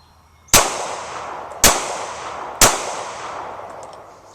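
Three loud, sharp reports from a Glock 43x pistol firing Federal 124 grain NATO rounds, spaced about a second apart, each with a brief ringing decay outdoors and no talking.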